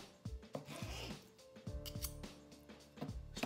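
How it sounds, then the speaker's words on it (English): A knife slices thin pieces of cooked goose meat with several soft, close cutting and rubbing strokes at an uneven pace, heard alone. "slice it really thin and then see if I can't get a couple really good pieces"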